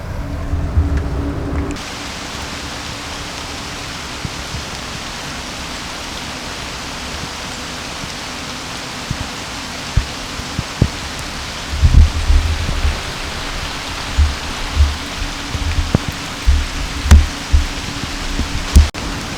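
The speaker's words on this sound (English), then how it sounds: "it's starting to rain" Rain falling steadily in an outdoor cemetery, a broad even hiss of drops with occasional heavier thumps and patters from nearby surfaces or a tree canopy, with no talking.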